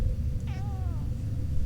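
A cat meows once in The Longest Journey video game, a short, clear, rising-then-falling call over a steady low ambient rumble.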